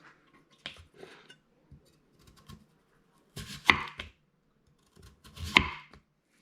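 A knife cuts through chayote on a cutting board, giving a few sharp, crisp chops spaced apart with quiet gaps between, close and fairly clear with no voice over them.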